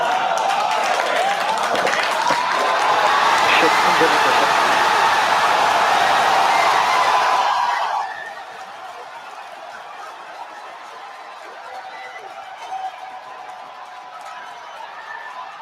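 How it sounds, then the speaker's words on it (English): A crowd cheers a SpaceX Starship hot-staging separation. A loud, dense roar of voices lasts about eight seconds, then drops sharply to a softer hubbub of scattered voices. "You hear the cheering."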